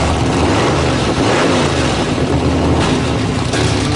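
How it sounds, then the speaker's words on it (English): A race car engine fires up and revs during a timed car-building competition, a dense, rough roar that fills the whole stretch without a break. "Chicago rallies together and fires up their motor"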